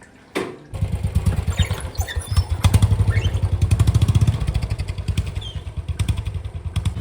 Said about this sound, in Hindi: मैं बाइक से ही जाऊँगा जिम